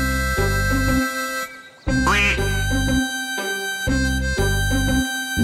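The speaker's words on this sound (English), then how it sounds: "This bird is known as the mallard duck." Loud, nasal mallard duck quacks repeat in a steady rhythm close by, over a sustained musical tone in the background.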